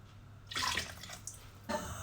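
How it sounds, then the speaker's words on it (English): Cold water runs from a kitchen tap into a pot of measured rice for chicken pulao, coming in two close, rushing bursts with a quieter gap between them, with no talking. "Cold water from the tap."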